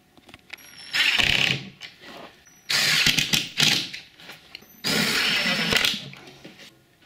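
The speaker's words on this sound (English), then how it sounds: "I can screw the back and the sides onto the base." A power drill drives screws into pocket holes in the wooden back and sides of a camp chuck box, in three loud, close whirring bursts with short pauses between them.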